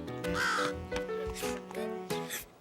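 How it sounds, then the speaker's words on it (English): Several harsh cartoon crow caws ring out in quick succession, close and clear, with short gaps between the calls and soft background music underneath. "What if a big crow chased him?"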